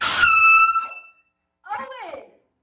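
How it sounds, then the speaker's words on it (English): A loud, blaring air horn blast at an FFA state convention session cuts off abruptly, followed by a short shout. "I always keep an air horn on me."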